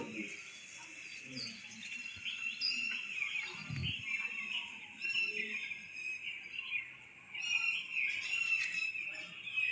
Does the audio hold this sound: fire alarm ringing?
no